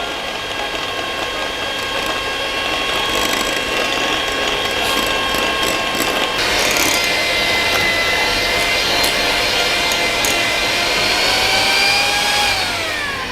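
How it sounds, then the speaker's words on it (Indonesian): Electric hand mixer whipping cream with water for a cake frosting, a steady close mechanical whir with gear rattle running continuously, its pitch shifting slightly midway as the mixture thickens. "Kemudian kita mixer dulu whipping cream, air."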